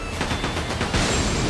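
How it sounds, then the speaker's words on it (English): Dense, fast gunfire rattles continuously in Like a Dragon: Pirate Yakuza in Hawaii, close and loud amid a noisy combat mix. "just a bit of gunfire."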